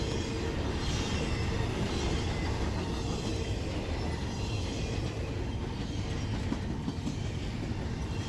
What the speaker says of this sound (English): this train wouldn't be stopping here, as they had to make their way to Binghamton and eventually Chicago